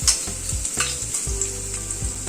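Potatoes frying in a pan of oil, a bright steady sizzle punctuated by several knocks and scrapes of stirring, close and loud with no talking.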